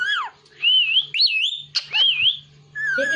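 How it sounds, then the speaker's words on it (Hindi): A pet parrot whistles in a run of rising, wavering tones, pausing between phrases, close and fairly loud, with a low steady hum underneath. "सीटी मार जा मिठुआ"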